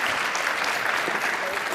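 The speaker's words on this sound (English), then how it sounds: "you can clap for that" A burst of steady applause from a crowd, dense clapping throughout with no pauses.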